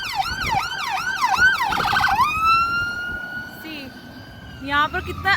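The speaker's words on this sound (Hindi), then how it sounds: "इधर एम्बुलेंस को कितनी अच्छी जगह दे देते हैं।" An ambulance siren wails close by on a city street while traffic pulls aside, first a rapid yelping sweep, then a long steady tone that fades as it passes.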